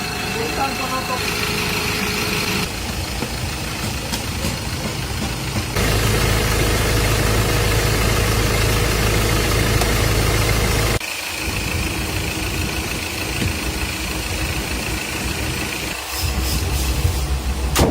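Ford Ranger engine idling steadily without misfiring, a continuous low rumble with a few abrupt shifts in tone, heard close with a voice speaking briefly at points.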